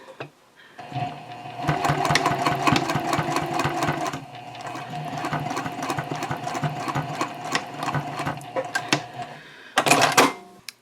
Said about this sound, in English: So put your press-a-foot down and just sew this in place.